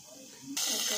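Asafoetida and cumin hit hot leftover oil from frying paneer, erupting into a sudden loud, bright sizzle that jumps up midway after a quieter hiss.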